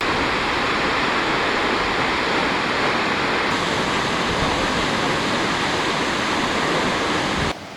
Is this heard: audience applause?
no